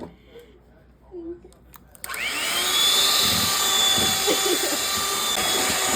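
An electric mixer beating cookie dough with eggs switches on after a couple of seconds of quiet room sound with brief voices, then whirs loudly and steadily to the end.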